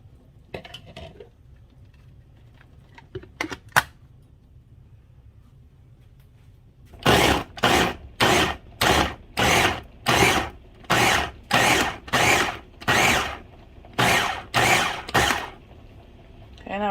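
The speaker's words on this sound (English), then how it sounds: "now these are going into my food processor" A food processor chops cucumbers for kosher dill pickle relish. A few sparse clicks and handling knocks come first, then about a dozen loud, evenly spaced pulsing bursts of whirring blades.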